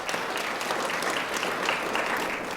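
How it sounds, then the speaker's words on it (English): Award reception audience applauding, a dense, even wash of many hands clapping at a steady level throughout. "Give him a round of applause."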